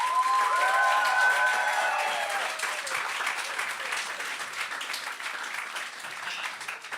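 A studio audience applauds loudly and cheers for a comedian on a game show, with whoops over dense clapping that continues steadily throughout.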